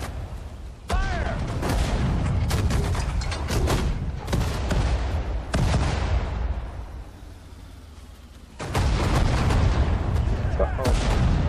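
Battlefield din from Sudden Strike 4 at the Kasserine Pass: repeated heavy artillery booms and bursts of gunfire, loud and close, with sharp blasts recurring across the stretch and a brief quieter lull before another heavy volley.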